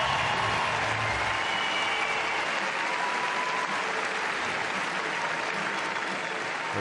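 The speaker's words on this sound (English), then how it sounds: "Thanks for cheering." An audience at the 2024 Rogue Invitational fitness competition applauds and cheers, producing a dense, steady roar of clapping and crowd noise that stays loud throughout.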